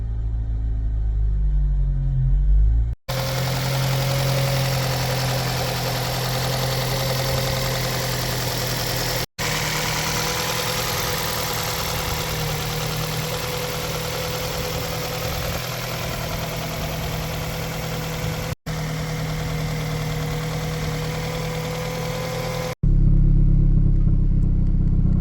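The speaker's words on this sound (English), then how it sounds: "The car turns on." A 2005 Ford Focus ST engine idles steadily after starting, a constant low rumble held for about twenty seconds, with brief cuts and a louder section near the end, no talking.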